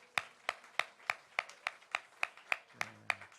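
Steady, evenly spaced clapping from a church congregation during a Sunday afternoon service, about a dozen sharp claps at a brisk rhythm, fairly clear with no talking over it.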